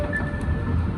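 Kawasaki M8 train on the Harlem Line, a steady low rumble with a faint tonal whine from inside the moving train, continuous over a brief moment with no speech.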